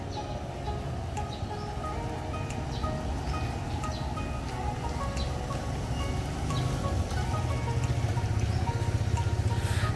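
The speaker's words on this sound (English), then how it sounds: "but it's raining hard." Steady, dense rain patters and hisses continuously, growing slightly heavier toward the end, with a few faint chirps in the background.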